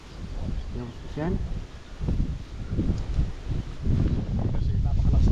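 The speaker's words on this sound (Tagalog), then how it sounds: "Kasi napakalakas na hangin." Strong wind buffets the microphone outdoors near a highway with a fallen tree stump, a steady low roar and rustle that builds toward the end, with voices talking over it.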